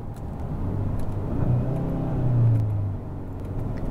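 A Hyundai Sonata N Line with a dual-clutch transmission drives along with a low engine drone from inside the cabin. The drone rises and swells briefly in the middle, then settles back, and no one speaks.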